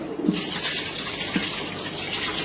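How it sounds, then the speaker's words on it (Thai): Tap water turned on and running into an aquarium being cleaned, a steady rushing splash that goes on throughout, fairly loud and close. "แล้วก็ทำการเปิดน้ำนะครับ"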